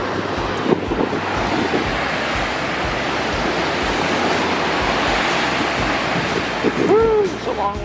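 Ocean waves and strong wind roar across a cruise ship deck near Iceland, a loud, constant broadband rush with brief gusts and a short, faint sound near the end.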